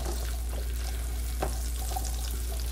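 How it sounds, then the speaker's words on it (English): Onions sautéing in a pan give a steady, close hiss of frying with faint stirring scrapes, alone without talk. "you're just going to saute these until they're somewhat clear"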